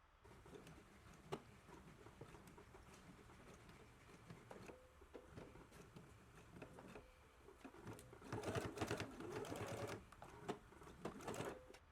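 A sewing machine stitches the center front seam of a bodice between two marked dots, its motor whirring in short bursts of rapid patter that grow busier and louder toward the end, with no talking.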